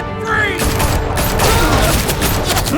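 Gunfire rings out in Batman: The Telltale Series, a loud, sustained volley of rapid overlapping shots with mechanical clatter, shouting voices mixed in.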